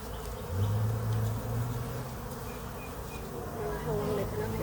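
A honeybee swarm hangs outdoors, giving off a dense, continuous buzz from many bees, close and fairly loud, with a deeper drone rising and fading in the first half.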